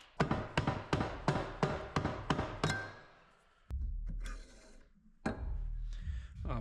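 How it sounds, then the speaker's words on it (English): Bolts on the bearing support of a 1990 Chevrolet Suburban drivetrain (GMT400, 700R4 transmission, NP241C transfer case) being undone with a 13 mm tool: a quick run of about eight sharp ratcheting clicks, then scraping and metallic rubbing, close up. "Our bearing support here that I'm undoing now is a 13 mil, and there's 4 bolts for that as well."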